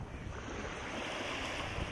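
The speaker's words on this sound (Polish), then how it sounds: "Jesteśmy na plaży w Gdańsku, w Brzeźnie. Idę teraz po wodę do Bałtyku, która jest zimna." Baltic Sea surf on the beach at Brzeźno in Gdańsk, a steady rushing wash of waves mixed with wind noise on the microphone, continuous and fairly close, with no voices.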